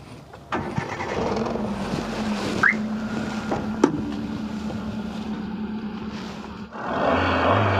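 Used car for sale in Tirupur, Tamil Nadu, starting up: a short crank catches into a steady, close engine hum that holds, then swells louder near the end.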